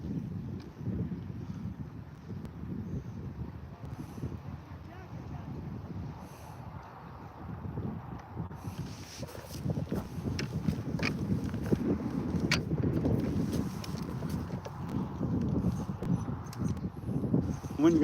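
Steady wind buffets the mic on a reservoir during kayak crappie and bass fishing, a continuous broadband rush that swells louder in the second half, with some small knocks and water sounds.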